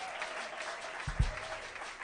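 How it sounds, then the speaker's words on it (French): Audience clapping at an evening church conference session, a steady wash of applause at moderate level with a brief louder thump near the middle and faint voices underneath. "The way you are clapping."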